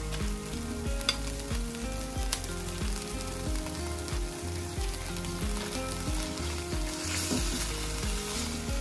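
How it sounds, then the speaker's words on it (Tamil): Chicken pieces frying in green curry masala paste in oil for an Indian-style Thai green curry, a steady close sizzle with repeated stirring scrapes throughout. "இப்போ நான் கட் பண்ணி வச்சிருக்கிற chicken"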